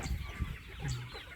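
Sonali breed chickens cluck inside a poultry house, with a few short nearby clucks and a brief drawn-out call over soft barn background.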